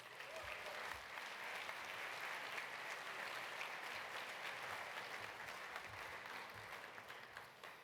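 Sustained applause from a large audience at an awards lunch, steady clapping filling the room for about eight seconds, with a faint murmur of voices underneath.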